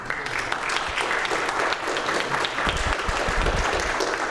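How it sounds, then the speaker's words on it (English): A church congregation at a United Methodist gathering claps together, a loud, dense and sustained applause with a few sharp individual claps standing out close by, continuing without pause. "give yourselves a round of applause."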